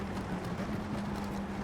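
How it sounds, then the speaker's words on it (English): Gravel rattling against a racing car in the iRacing sim, a dense, steady gritty clatter with a low hum running under it through the short stretch. "it sounds like a load of gravel"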